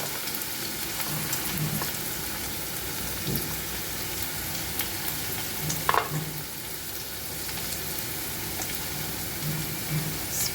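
Onions frying until crunchy in hot oil for a chicken fry, a soft continuous sizzle with occasional stirring scrapes, fairly quiet and steady throughout.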